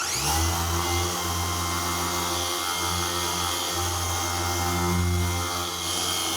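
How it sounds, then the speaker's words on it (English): Steady, continuous whir of a power sander flattening applied paint on a Buick Grand National fender, with a constant droning hum and gritty abrasive hiss throughout, close and loud. "sanding down the color that we applied to the fender"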